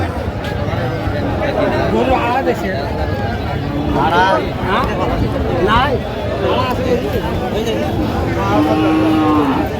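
Cows moo repeatedly at a cattle market over a steady hubbub of crowd noise and people talking nearby, the lowing calls rising and falling throughout.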